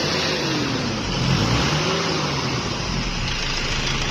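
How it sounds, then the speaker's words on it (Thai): A roughly 2.5-litre car engine runs steadily at idle with a slight rise in revs midway, a close, continuous mechanical hum with no talking. "เดี๋ยวเรามา ฟังเสียงเครื่องกันนะ"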